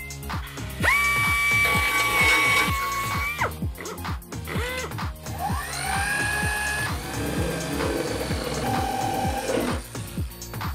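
A spot-weld cutter drill bit whines up to speed and bites into a Honda Beat car body panel in bursts, with rapid mechanical clicking and ringing tones between runs.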